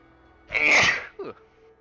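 A single loud sneeze up close, followed by a brief short sniff or gasp, then quiet.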